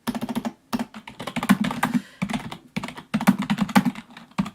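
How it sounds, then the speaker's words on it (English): Rapid keystrokes on a computer keyboard come in bursts with brief pauses, close and clear, no talking over them. "I'm about to type it in now."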